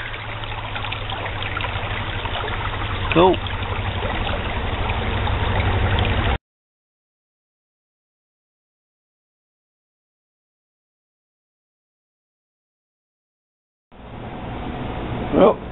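A small creek trickles and streams steadily at close range, with a brief spoken word partway through and a gap of silence before the water resumes.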